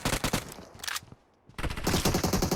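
Video game gunfire comes in rapid automatic bursts, loud and close, with a brief lull before a second sustained volley.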